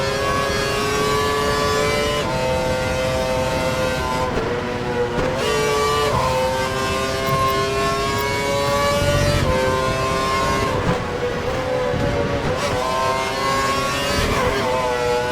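A Formula 1 car engine in the F1 2012 video game, at the Malaysia race, revs loudly and steadily, pitch climbing and dropping between gear shifts, with a continuous high-pitched whine and no talking.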